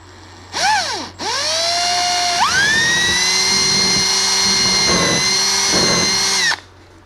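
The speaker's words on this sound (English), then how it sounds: "And so I'm going to drill a hole through what we did," A power drill bores a hole through a fiberglass C5 Corvette fender, with a short revving burst, then a steady high whine that holds for several seconds before cutting off.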